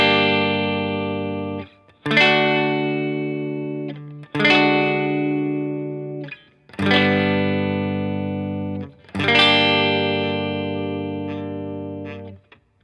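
Electric guitar playing a chord progression, five separate strummed chords, each ringing out for a couple of seconds before the next, clear and without talking.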